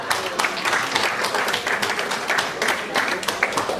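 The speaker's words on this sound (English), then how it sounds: "Applause for yourselves." A room of workshop participants applauds themselves, with brisk, uneven clapping throughout at moderate loudness and no talk.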